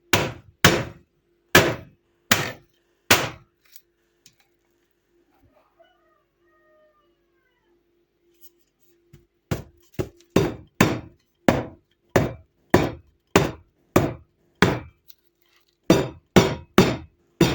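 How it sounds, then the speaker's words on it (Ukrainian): Repeated sharp wooden thuds of cucumbers being pounded on a cutting board with nothing underneath, in two bursts separated by several seconds of near silence. "якби знизу підкласти рушник, і тоді б не гупала б досточка"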